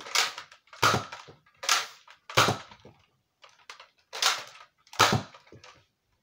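A Nerf Strongarm blaster firing red Elite darts in a series of about seven sharp, separate clacks with short pauses between them, fairly close and alone with no talking.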